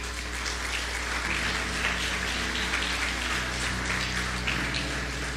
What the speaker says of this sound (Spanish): Dele un fuerte aplauso a esta mujer.